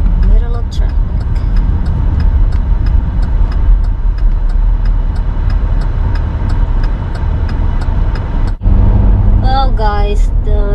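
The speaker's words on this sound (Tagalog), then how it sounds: "Middle of traffic." Road traffic heard from inside a moving car, a steady loud engine and road rumble throughout, with a brief dip near the end followed by talking over the noise.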